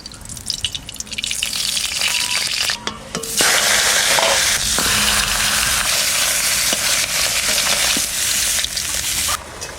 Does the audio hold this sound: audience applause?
no